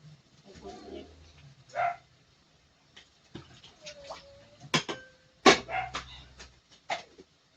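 A dog whimpers in short, high, thin whines scattered over several seconds, near and fairly faint, with clatter and a few sharp sounds in a home kitchen around mealtime.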